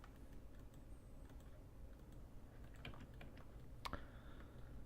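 Quiet, scattered keystrokes on a computer keyboard during AutoCAD 2017 work, a few soft clicks with one sharper tap near the end, over a low background hum.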